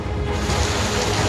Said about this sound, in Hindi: पानी के इस तेज बहाव को देखकर कौन कहेगा कि 2 दिन पहले यहाँ पानी का नामो निशान नहीं था